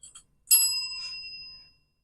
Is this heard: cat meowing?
no